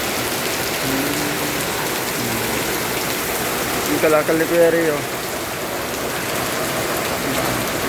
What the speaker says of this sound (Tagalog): Ayan, lakas ng ulan mga guys.